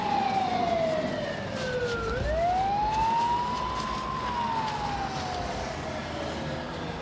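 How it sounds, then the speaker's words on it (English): An ambulance siren wails in downtown Trenton, New Jersey, its rising and falling tone sweeping loud and continuous over street traffic noise. "It's not a policeman, it's an ambulance."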